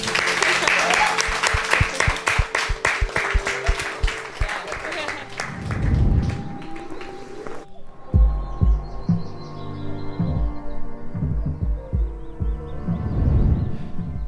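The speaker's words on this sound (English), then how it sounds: "Round of applause" An audience at a pilgrimage-themed podcast event claps for several seconds, a crowd of hands patting irregularly before thinning out and giving way to other sustained sounds.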